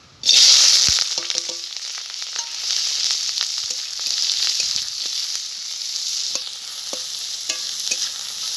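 Chopped onion, garlic and slit green chilli with turmeric and salt drop into hot oil for kalmi greens, bursting into a loud sizzle that settles into a steady crackling hiss with scattered stirring scrapes and taps.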